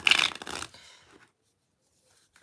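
A quick riffle shuffle of playing cards, a dense close ripple lasting under a second that trails off into quiet handling.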